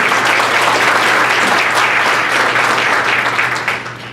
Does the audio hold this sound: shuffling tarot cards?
no